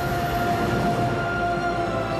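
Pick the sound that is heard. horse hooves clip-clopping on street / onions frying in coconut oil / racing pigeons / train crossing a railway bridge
train crossing a railway bridge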